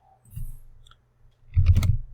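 A computer mouse gives a few soft clicks, separated by a short pause, close to the microphone and alone against near silence, while a logo is being edited in Canva.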